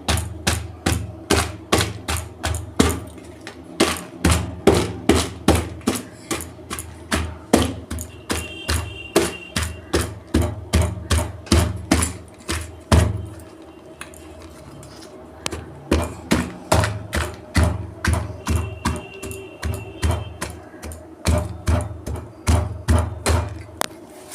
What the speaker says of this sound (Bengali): এটাকে আমি একটু গুঁড়ো করে নেবো